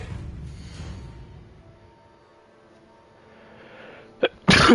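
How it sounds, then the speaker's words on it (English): A single sudden sneeze bursts out near the end, loud and close, preceded by a brief sharp intake, over quiet background noise from a Hogwarts Legacy game session. "Sneezing like an iPad kid."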